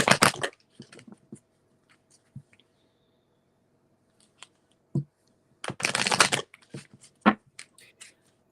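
Quick papery riffling bursts of cards being shuffled, two main flurries with scattered soft clicks and taps in between, close and fairly quiet.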